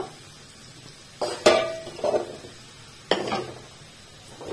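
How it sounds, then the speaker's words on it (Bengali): Fried potatoes scooped from a pan into a bowl for chana masala, made without onion or garlic: a few close clinks and scrapes of a utensil against cookware, in two short bursts with quiet pauses between. "সব আলুগুলোকে আমি তুলে নেব বাটির মধ্যে একটা"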